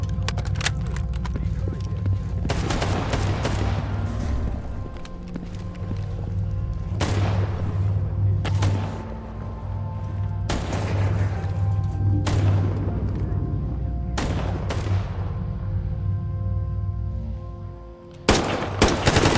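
AK rifle gunfire in a survival video game, repeated loud bursts of shots spaced every few seconds over a steady rumbling game ambience, with a player talking throughout.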